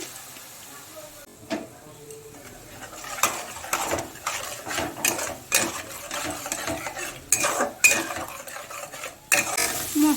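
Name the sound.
stirring and frying spice masala with a little water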